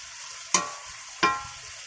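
A spoon stirs cumin and dried chili powder frying in a pan, two sharp scraping strokes with a low sizzle running between them, close and alone.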